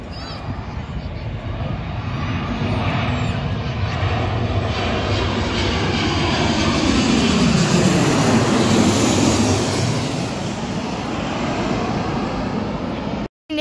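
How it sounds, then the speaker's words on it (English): A Virgin Australia Boeing 737-8 coming in to land at night, a loud sustained jet engine roar that swells and sweeps in pitch as it passes close overhead, then cuts off abruptly. "Coming in now is a Virgin Australia Boeing"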